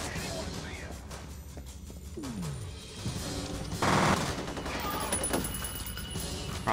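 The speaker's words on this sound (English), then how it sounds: "He's got a shotgun. Oh, both of them had a shotgun." Shotgun blasts and scattered gunfire in the shooter F.E.A.R. Perseus Mandate, with a loud burst near the middle amid clattering effects, a voice talking over parts of it.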